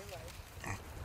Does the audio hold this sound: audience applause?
no